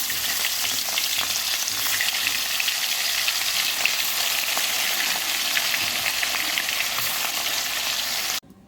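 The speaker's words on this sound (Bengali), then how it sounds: "মাছগুলো ভেজে ঝাল করে ফেললেই মোটামুটি রান্না হয়ে যাবে।" Fish frying in a pan for a mustard and tomato jhal gives a steady, close, hissing sizzle that runs without a break, with small crackles, and cuts off abruptly near the end.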